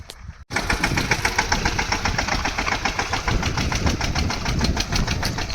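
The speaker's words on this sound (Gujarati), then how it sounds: "હું તમને હમણાં બતાવું કઈ રીતે ટ્રેક્ટર હાલે." A tractor engine runs steadily in a peanut field, a loud, continuous, close mechanical drone with a rapid regular knock, after a brief quiet start.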